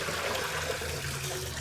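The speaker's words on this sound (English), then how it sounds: "Got all of our measuring cups and everything in here as well. Get these rinsed." Tap water runs steadily over measuring cups in a kitchen sink, a continuous close splashing rush.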